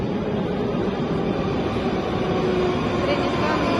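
A Moscow metro train pulls into an underground station with a continuous rumbling roar of wheels and carriages, loud and sustained throughout, with no voices heard.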